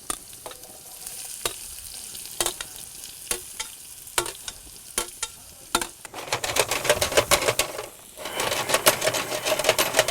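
Onions and garlic frying in a pan for cashew curry give a crackling sizzle with sharp pops, growing denser and louder midway as the pan fills with spattering.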